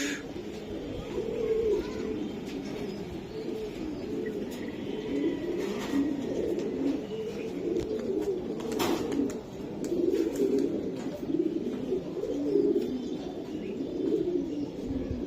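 Benaras breed pigeons coo steadily in a low, rolling murmur throughout, several birds overlapping close by, with a few faint chirps and brief rustles on top.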